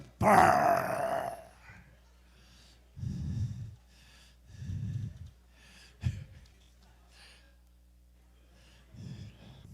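A voice imitates snoring up close: a loud rasping snort, then several slow, rhythmic snoring breaths separated by quiet pauses.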